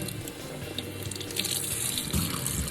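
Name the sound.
water running from the sink tap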